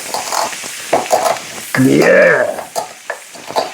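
Peppercorns are crushed by hand in a kitchen with gritty scraping and cracking bursts, ending in a few short clicks, and a voice briefly speaks over it.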